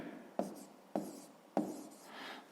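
A pen writes numbers by hand for a sixth-grade math exercise, making three short, crisp scratching strokes close by and quiet, evenly spaced about half a second apart.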